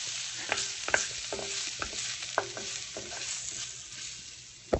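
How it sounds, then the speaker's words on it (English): Swiss chard with garlic frying in a pan on a stovetop, a soft steady sizzle broken by scattered scrapes and taps as a utensil stirs the greens, heard up close and faint. "So I'm just stirring it around here. Can you hear it sizzle?"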